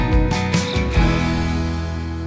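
Studio grand piano from a Logic Pro 11 keyboard session player plays a short run of struck chords, then one broken chord rings out and sustains, clear and close with nothing else heard.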